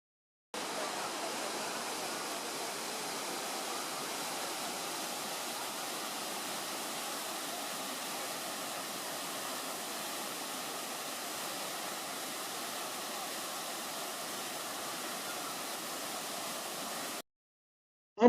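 Man-made waterfalls near Stavelot Abbey in Belgium produce a constant, even rush of falling water, steady and unbroken for about sixteen seconds before cutting off.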